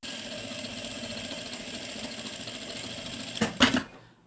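Sewing machine running steadily while basting a temporary seam on a lined kameez, a continuous close whirring hum that ends in a brief louder burst of stitching before stopping.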